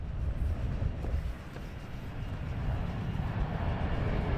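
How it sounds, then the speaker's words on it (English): An EasyJet airliner at London Luton Airport, a faint, steady low engine rumble heard from a distance with no voices. "Twin tone EasyJet."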